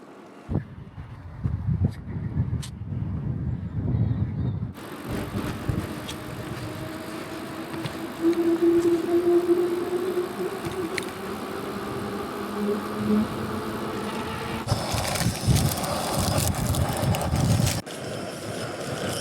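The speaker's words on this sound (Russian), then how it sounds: "у нас очень ветреная обеденная остановка" Strong wind buffets the microphone at a roadside lunch stop during a Siberian bicycle rally, gusting roar and rumble rising and falling continuously.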